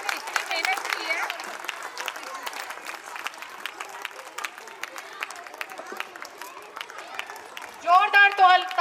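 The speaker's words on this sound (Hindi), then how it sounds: "जोरदार तालियां बजाइए।" Audience applause at a school annual day function, a broad patter of clapping crowd sound that stays steady throughout, with a voice coming in over it near the end.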